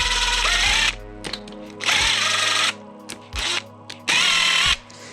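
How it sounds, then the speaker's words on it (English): A power drill runs a bolt on a VQ engine during a rebuild in three loud whirring bursts, each stopping short. Brief clicks and ratcheting fill the gaps. "right here, I'm actually using a drill, but I'm not fully tightening the bolt down"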